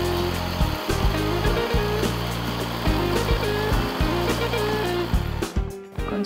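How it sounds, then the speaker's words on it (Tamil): A kitchen mixer grinds soaked pepper, cumin, coriander and toor dal with a little water into a coarse paste, a loud steady motor roar pulsed on and off several times, close up and alone. "தண்ணி ஊத்தி அரைச்சுக்கலாம்."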